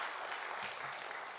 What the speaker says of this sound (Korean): 박수라도 치시고 그래야지.